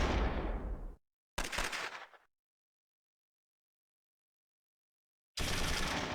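Tank cannon fire in the World War II strategy game Close Combat 3, a StuG assault gun hitting a T-34: two sharp, loud blasts a moment apart, then silence, then another loud burst at the end.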